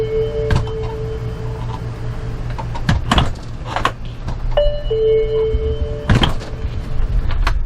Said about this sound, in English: So every time you open and close the door